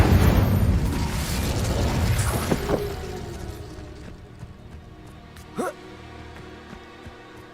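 An Incendio fire spell bursts in Hogwarts Legacy with a loud roaring whoosh that swells, then fades into quieter ambience with a brief pop near the end.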